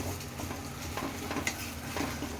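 Egg fried rice stirred and frying in a pan, a close, steady sizzle with soft scraping stir strokes.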